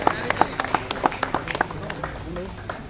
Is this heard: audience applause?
yes